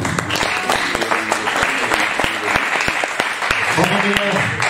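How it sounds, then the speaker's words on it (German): Applause from the audience at a women's weightlifting championship awards ceremony, honouring two U17 athletes: steady, dense clapping with sharp individual claps standing out, loud and continuous throughout, with faint voices in the background. "Applaus an unsere zwei U17-Athletinnen."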